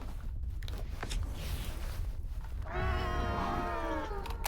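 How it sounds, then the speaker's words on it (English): Mutant cats in S.T.A.L.K.E.R. 2 let out a long, wavering, eerie yowl midway through, preceded by scattered rustles and footsteps in a tense, quiet game ambience. "Yeah, I think those are the cats."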